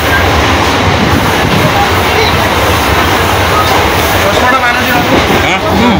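A passenger train pulls out of a station in Odisha, steady loud rumble of railcars and wheels with crowd noise and voices talking over it throughout.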